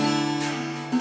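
Acoustic guitar chord strummed once and left to ring out, a full sustained sound that slowly decays over about a second, with a slight soft touch near the end.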